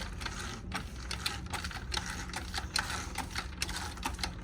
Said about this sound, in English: how this 4-gallon spray works, quite simple. All you do is pump